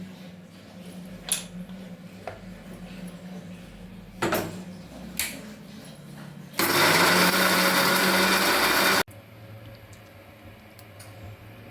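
A mixer grinder blends tomato and other ingredients for vegetable rice bath. After a few scattered knocks and clicks it roars loudly for about two and a half seconds, then cuts off abruptly.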